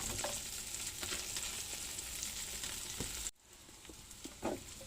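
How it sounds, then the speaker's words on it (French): Small bread croutons frying in butter in a hot pan, a steady bright sizzle that runs loud and continuous, then drops abruptly as the food is stirred or the pan shifted, with a few soft clinks afterward. "Poêle chaude, on met son beurre et là on met ses petits croûtons."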